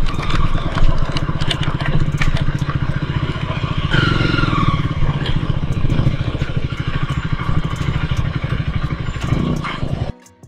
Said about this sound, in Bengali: ফুল কাফিলা চলেছে আমাদের এই ঝমঝমিয়ে বৃষ্টির মধ্যে।